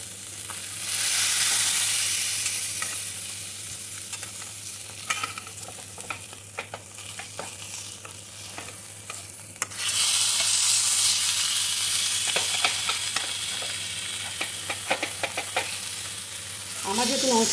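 Fish cooks in a pan without oil, giving a soft continuous sizzle with scraping and stirring clatters, the hiss swelling louder partway through.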